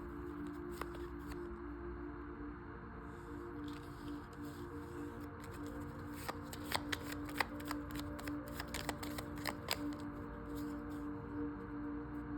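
Tarot cards being shuffled by hand in a quiet room, a soft continuous riffling with crisp flicks and snaps that grow busier and more pronounced toward the end, with no voice.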